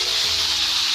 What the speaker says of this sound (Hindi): तेल मीडियम गरम हो चुका है, टमाटर को काट लिया है, इसमें डालते हैं